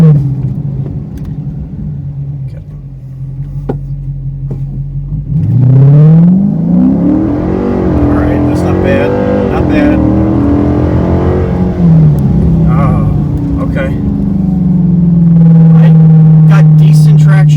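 A cammed 5.7L Hemi car accelerating hard with wheel spin, a loud close engine roar that rises in pitch, dips as it shifts, then climbs again, with a voice talking over it.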